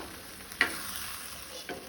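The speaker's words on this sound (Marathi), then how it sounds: "आता ही भाजी सगळी हांव मिक्स करून घेता।" Mixed vegetables sizzle softly on a hot tawa while a spoon stirs them, with two short scraping strokes over a quiet steady frying hiss and no voices.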